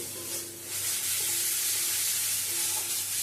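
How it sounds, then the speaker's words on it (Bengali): Spice paste frying gently in a pan over a low gas flame for a Bengali katli aam mango recipe gives a steady, soft sizzle with faint hiss, continuous and fairly quiet throughout. "ভালো করে মশলাটা কষিয়ে নিতে হবে গ্যাসের আঁচটা কমিয়ে নিয়েছি"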